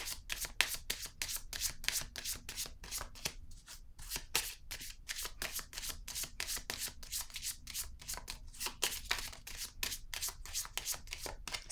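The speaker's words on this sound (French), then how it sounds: "Je vais piger une autre carte ici pour tenter de comprendre." Tarot cards being shuffled and drawn, a close, crisp run of rapid riffling flicks and slaps in quick bursts, with a few brief pauses, and no talking.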